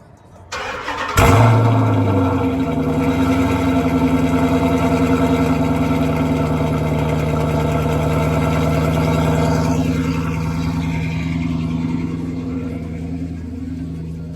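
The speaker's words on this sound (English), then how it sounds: "Let's get ready to start the truck." A V8 truck engine cranks and catches, then settles into a loud, steady, deep idle rumble that continues close by without pause.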